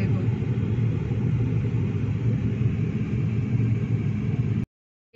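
Car engine rumble from inside a vehicle crawling through a long traffic jam on blocked roads near Jalandhar, a steady low drone throughout that cuts off abruptly near the end.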